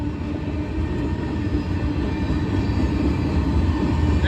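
A southbound loaded steel freight train rolls past in Tipp City, Ohio, a steady heavy rumble of wheels and railcars that stays loud and continuous throughout, with no talking.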